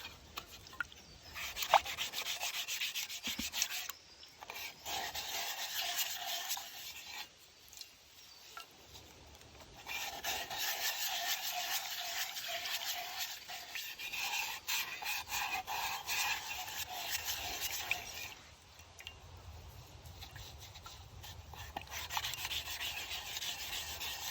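A metal canteen cup being scrubbed clean at an Australian bush camp, steady abrasive rubbing strokes running continuously with a few short pauses, close and fairly loud.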